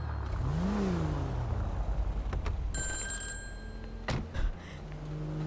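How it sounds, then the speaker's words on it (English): A payphone at a gas station in Grand Theft Auto rings with bright, repeated electronic bell tones, preceded by a rising engine whine and set against steady game ambience. "Payphone!"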